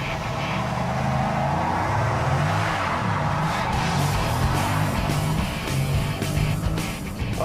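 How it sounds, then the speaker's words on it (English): A 2012 Dodge SRT8 doing a burnout, with a loud steady engine roar and tire noise that holds for several seconds at close range. "Oh, you got the burnout part done."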